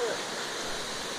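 A waterfall at Pedras de Itaguaçu makes a steady, broadband rushing roar, close and continuous throughout.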